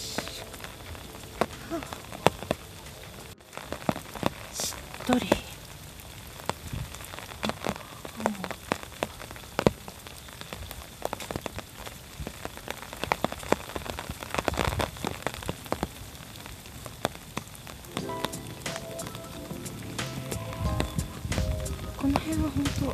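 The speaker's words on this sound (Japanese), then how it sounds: "しとしと雨が降る中、" Gentle, steady rain falling in a park along a riverside path lined with cherry trees, a soft patter of drops all the way through, with footsteps and a voice talking over it.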